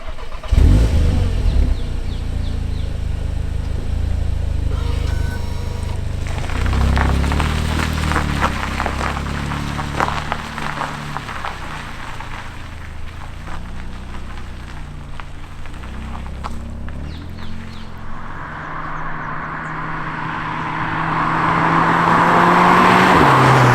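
A 300 bhp CUPRA Ateca sports SUV drives on the road, its engine note rising and falling through acceleration over steady road and wind roar, growing broader and hissier near the end.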